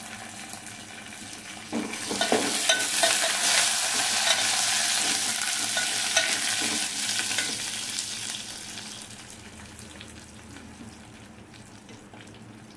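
Curry leaves dropped into hot oil for a tempering for Telugu pappu charu, a sudden loud crackling sizzle that swells, holds for several seconds, then settles into a softer frying hiss.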